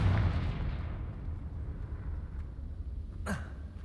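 A Confringo fire spell in Hogwarts Legacy lands with a heavy, booming explosion that rumbles and fades over a few seconds, followed near the end by a short sharp magical whoosh.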